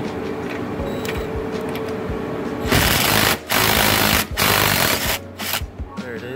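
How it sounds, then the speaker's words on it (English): Power tool driving out the seat bolts of a 2007 Chevrolet Silverado driver seat: a dense, loud whirring burst from about three seconds on, broken by short pauses as the socket slips off, after quieter mechanical noise. "if you have power tools, might make it easy"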